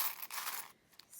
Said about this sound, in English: if you don't like the sound of the charms or you have the volume turned up really high, you might just want to turn it down while I shuffle them